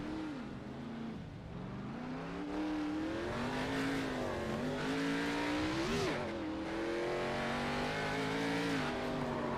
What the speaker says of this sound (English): Listen to his engine.